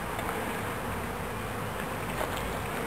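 A dense, steady buzz from swarming honey bees around a beehive in Brownwood, Texas, continuous and close, with no voices.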